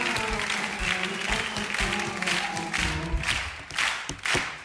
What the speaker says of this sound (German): klatscht das Publikum hier mit in unserem schönen Theater